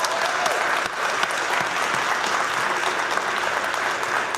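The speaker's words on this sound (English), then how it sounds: "I think we should just give them all one big round of applause" A crowd at the 2023 TechNL technology sector awards ceremony applauds loudly and continuously, a thick, even wash of clapping from start to finish.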